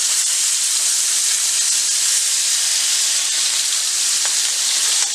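Steak searing in a skillet with mushrooms and onions, a loud, close, continuous hissing sizzle holding steady throughout with no voices.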